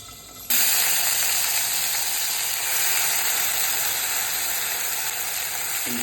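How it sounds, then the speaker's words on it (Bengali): Tangra fish fry in hot oil in a pan, a sudden loud, crackling sizzle that starts abruptly and holds steady and close throughout, with no talking. "মাছ ভাজা শুরু"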